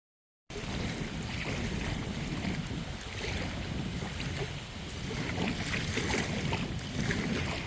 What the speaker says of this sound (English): What's up with the wind?